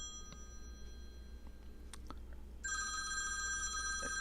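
A telephone rings with a bright electronic tone that starts faint and intermittent, then grows loud and steady in the last second and a half over low background hum.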